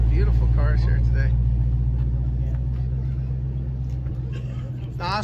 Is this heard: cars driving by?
yes